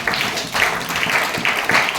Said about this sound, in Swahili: Mpige makofi kwa Bwana wetu Yesu Kristo